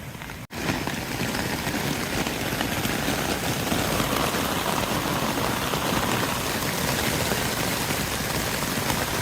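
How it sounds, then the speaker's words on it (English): Steady rain drums on a camping tarp during a thunderstorm on the Florida Trail, a dense, loud, unbroken patter close overhead, with a brief dip near the start before the downpour continues evenly. "I can hear some rain starting."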